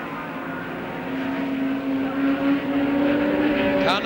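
A 1.6 litre Repco Brabham Ford race car at a 1968 Tasman Series round at Warwick Farm, its engine droning steadily as it runs past, the note rising slightly and growing louder toward the end over broadband track noise.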